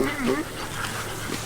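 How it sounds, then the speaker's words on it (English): Dogs on a farm whimpering and panting close by, a short burst of high whines near the start followed by breathy panting, with a voice talking underneath. "now they hear the dogs up here"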